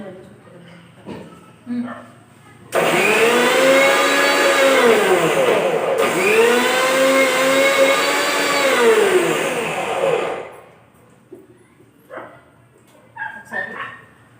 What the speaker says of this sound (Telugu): మనం అలాగే మొత్తం ఈ అల్లం చింతపండు కూడా అందులో యాడ్ చేసుకుని గ్రైండ్ చేసుకున్నాము